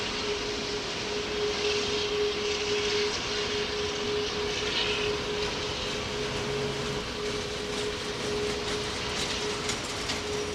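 An All Nippon Airways jet taxis at Heathrow, its engines giving a steady broadband roar with a constant whine. The sound stays even and moderately loud throughout, with no voices over it.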